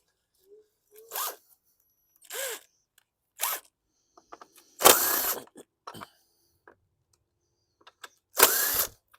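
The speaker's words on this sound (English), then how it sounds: "I've got an 8mm socket. I'm going to remove the recoil." An 8mm socket ratchet removes the recoil starter from a 2012 Bolens push mower, giving several short separate ratcheting bursts with quiet gaps between them, close and alone.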